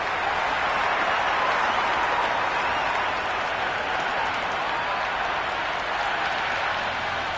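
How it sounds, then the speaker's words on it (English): A cricket crowd in the video game Cricket 26 applauds and cheers after a top-edged shot runs away to the boundary in an India vs New Zealand ODI, a dense, steady roar that holds at the same level throughout. "The crowd is electric right now."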